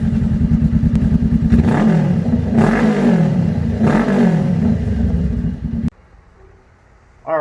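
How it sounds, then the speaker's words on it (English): A 2018 Honda CBR500R motorcycle fitted with a slip-on exhaust and new mid-pipe idles loud and close with a throbbing rumble, rises in three revs, then cuts off abruptly, followed by a brief quiet and a thump. "I'm going to go ahead and start this bike and see how it sounds."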